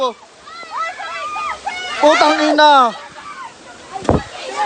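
Floodwater splashes and sloshes during Typhoon Ulysses in the Philippines, heard under excited, overlapping shouting voices, with a sharp burst near the end.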